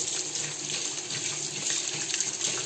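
Water runs steadily from a tap in a home kitchen while bread is being made, a continuous close hiss and splash with no talk.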